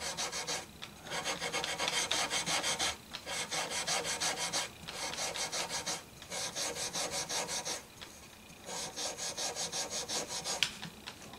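Steel wool scrubs crud off the binding of a Gretsch guitar in repeated rasping strokes, each burst lasting a second or two with short pauses between, close-up and with no voices.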